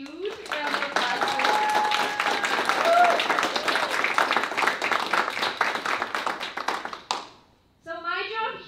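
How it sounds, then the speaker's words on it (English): An audience at a hearing dog graduation claps in quick, dense applause that stays strong for about seven seconds, then cuts off. Voices rise just after it ends. "So let's give a huge round of applause."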